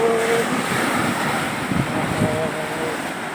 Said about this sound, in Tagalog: ang lakas ng alon, nakakatakot naman no